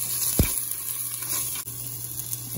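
Ginger frying in hot oil, a steady close sizzle with a brief clunk near the start, continuous and unbroken.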